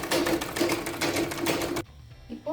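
Sewing machine stitching chudithar panels, a fast steady mechanical whirr with rhythmic needle clatter, close and loud, stopping abruptly near the end, followed by a brief voice.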